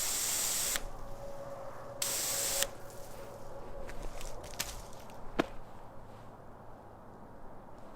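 Water bursts from a garden hose fed by a well pump, a broad hissing spray that starts and stops in two short bursts, then settles into a softer, steady trickle and hiss with a few knocks.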